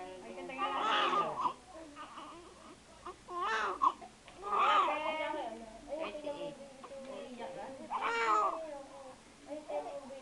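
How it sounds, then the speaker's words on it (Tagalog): A newborn baby gives its first cries, a series of strained, rising wails in several bursts, close and moderately loud, with quiet background sound between them. "Ang first cry ng baby"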